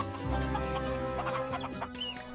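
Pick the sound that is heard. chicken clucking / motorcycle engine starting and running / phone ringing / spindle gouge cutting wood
chicken clucking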